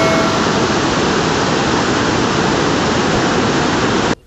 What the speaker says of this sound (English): This was river Mandakini, which was flowing with a roaring noise.